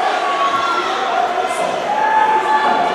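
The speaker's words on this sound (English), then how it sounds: "And they're chanting DWO" A wrestling crowd at a PPW High Voltage event cheers and chants steadily, a dense, continuous roar of many voices filling the arena with no breaks.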